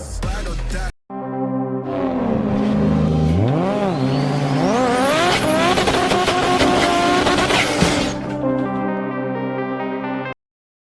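A Mercedes-Benz S-Class W126 engine revs loud and close, its pitch climbing and falling in repeated surges before holding a high, steady roar, then cutting off near the end.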